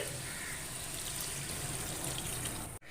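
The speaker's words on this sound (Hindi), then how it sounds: "अब मैं इसके अंदर 2 कप पानी डाल दूंगी" Two cups of water pour steadily into a pot of browned mutton for white mutton karahi, making a continuous rushing splash that stops abruptly at the very end.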